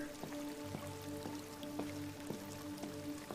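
Rain falling in the video game Detroit: Become Human: a steady, close patter with regular drip-like taps every half second, and no voices.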